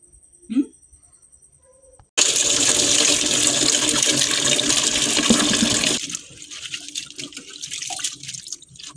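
Medicinal herbs for mutton trotter soup rinsed under running tap water in a sink: a faint thump, then a loud steady gush of water for about four seconds that cuts off into scattered drips and splashes.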